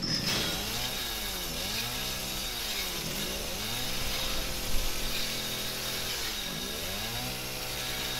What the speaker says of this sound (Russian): Теперь у меня есть бензопила